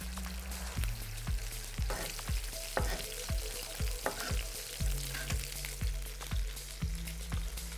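A spoon stirs matsoni yogurt sauce with paprika, mint and finely chopped coriander, tapping a bowl in a steady rhythm of light, ringing clinks about twice a second over a soft background hiss.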